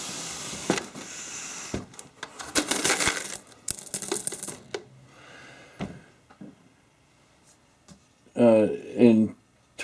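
Copper cent coins drop and clatter in several quick metallic bursts, near and fairly clear, followed by quieter rustling; a voice speaks briefly at the end.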